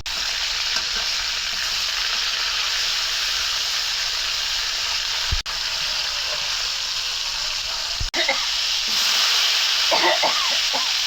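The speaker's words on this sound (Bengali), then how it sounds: "রুই মাছ ভাজি করতেছি" Rohu fish pieces fry in hot oil with a loud, steady sizzle that runs throughout, broken by a couple of brief clatters and some stirring scrapes near the end.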